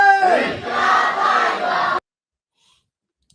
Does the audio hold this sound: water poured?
no